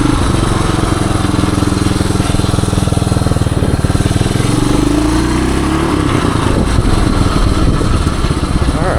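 A 1978 Suzuki DR370 motorcycle engine pulls hard in third gear, a loud, close, steady roar with the pitch rising as it accelerates, running continuously throughout.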